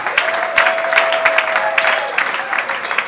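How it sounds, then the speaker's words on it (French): A church congregation applauds loudly and steadily for about three seconds, with a dense clatter of many hands and a few voices calling out over it. "Acclamons fortement"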